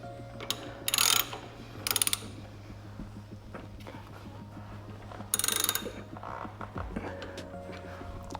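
Ratcheting and tool clicks from tightening bolts while replacing brake pads on a Harley motorcycle, several short bursts of metallic clatter over a steady low hum, fairly close.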